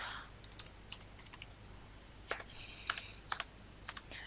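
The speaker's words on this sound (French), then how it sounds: "j'équilibre en appuyant donc sur la touche égale du clavier" Keys tapped on a computer keyboard during accounting data entry, a sparse run of light clicks that thickens into a quick cluster of sharper strokes, close and alone with no voices.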